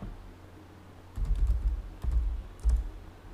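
Keystrokes on a computer keyboard entering a short file name, heard as two or three brief clusters of fast, close tapping over a low steady room hum, with a quiet pause before the first burst.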